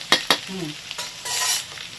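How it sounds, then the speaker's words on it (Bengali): Potatoes frying in a pan of oil, cooked alongside a fish roe kofta curry, give a soft steady sizzle with a couple of sharp utensil clicks near the start and a brief louder hiss swell toward the end. "ওদিকে আমার আলু ভাজা হচ্ছে, এখনো লাল হয়নি, চলছে।"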